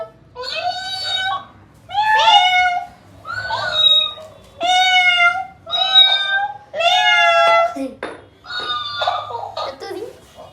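A person repeatedly imitates a cat's meow, about seven drawn-out mewing calls in a row with short pauses between them, close and clear.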